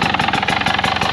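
A Husqvarna TE300 Heritage two-stroke dirt bike fitted with Enduro Engineering protection upgrades idles on a trail near pine trees, giving a steady pulsing engine drone with a quick throbbing rhythm that continues for the whole moment.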